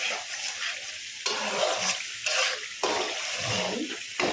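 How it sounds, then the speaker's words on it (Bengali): Ground green chilli spice paste sautés in frying oil. A close, dense sizzle swells in repeated bursts as the paste is stirred and turned, with faint low clatter underneath and no talk. "মশলা কষানো হয়ে গেছে, তেল ভাজতেছে"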